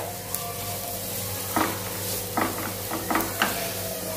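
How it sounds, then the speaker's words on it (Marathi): Garlic sautéing in a pan for garlic bread, a continuous close sizzle with several brief scraping stir strokes against the pan in the second half. "हे परतून घेऊया, म्हणजे जेणेकरून त्याचं जे कच्चं पण आहे ते निघून जाईल।"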